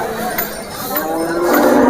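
Bulls at a busy village cattle market in Lasur low out loudly nearby, a drawn-out moo over a murmur of background crowd noise.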